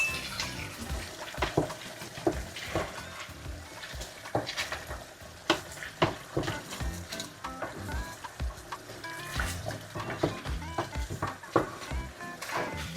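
Chicken curry sizzling and frying in a pan as potatoes are tipped in, with stirring and scattered clatters of a utensil against the pan running steadily throughout, no talking.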